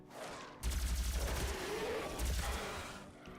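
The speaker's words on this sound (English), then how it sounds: "Siphon grenade." A siphon grenade goes off in a first-person shooter game as a burst of rapid, pulsing blasts that stutter for about a second, pause, then return more briefly.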